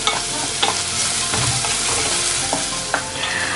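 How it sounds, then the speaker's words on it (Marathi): A paste of ginger, garlic, coconut and coriander sizzles loudly in hot oil for a horse gram curry, a steady close frying hiss broken by faint scrapes and clinks of stirring. "आणि याला मी 2 मिनिट छान फ्राय करून घेते।"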